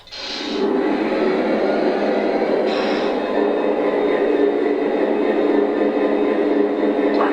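Model Amtrak Charger locomotives in 3rd rail scale pull Viewliner and Amfleet cars along a layout, giving a steady, close rolling rumble and hum of wheels on track that runs unbroken with no voices.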